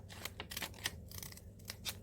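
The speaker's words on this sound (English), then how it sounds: "And then I'm taking my nail scissors, which are more dainty and have a curve" Curved, dainty nail scissors snip through paper to cut out a leaf-shaped stencil, giving a quick run of close, crisp snips with an irregular rhythm.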